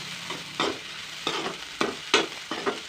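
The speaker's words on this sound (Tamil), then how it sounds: "போட்டு இப்போ மறுபடியும் இது எல்லாமே நல்லா சேர்த்து கிண்டி எடுத்துடலாம்" Onions with fennel seeds and cardamom sizzling in a pan for chicken roast, with a spatula stirring and scraping in about six regular strokes over a steady low fry.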